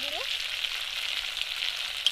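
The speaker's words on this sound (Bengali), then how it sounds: "মশলাটা ভালো করে কষে নেব।" A paste of ginger, turmeric, beaten yogurt, peas and ground coriander sizzles steadily in a pan while being stirred, a close, even hiss with a faint clink, and no voices.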